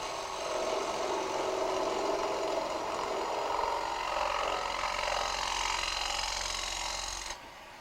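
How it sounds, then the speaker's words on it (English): A half-inch spindle gouge undercuts the wood nub on a dried core spinning on a lathe. It makes a steady, close whirring hum with a scraping hiss that runs evenly and then drops away near the end. "I'm using a 1/2 inch spindle gouge"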